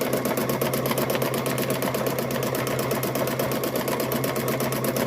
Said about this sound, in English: I sew off the end, because you end up binding the end of it